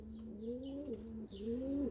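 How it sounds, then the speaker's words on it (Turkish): Birds in a garden beside a coop, with a pigeon or dove cooing in two smooth rising-and-falling phrases, close and clear over quiet background chirps. "Kuşlar da bahçede arkadaşlar."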